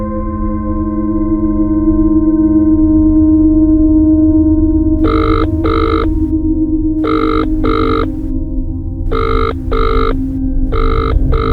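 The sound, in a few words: telephone ringing unanswered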